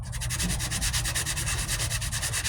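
Body filler on the passenger side wheel arch of a 1998 Ford Ranger is sanded with rapid, rhythmic back-and-forth strokes, close and steady throughout with no voices.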